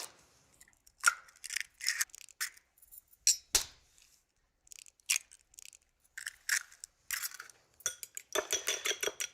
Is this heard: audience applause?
no